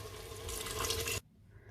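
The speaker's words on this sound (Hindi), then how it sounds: "अब हम इसमें पानी डाल देंगे।" Water poured into a cooking pot of browned beef for chana dal gosht, a steady close pouring rush lasting about a second before it cuts off, leaving quiet kitchen background.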